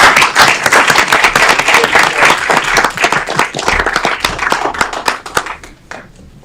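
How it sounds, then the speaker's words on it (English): A city council meeting audience claps together in a loud, dense round that holds for several seconds, then thins to a few scattered claps and fades out. "Let's give her a round of applause."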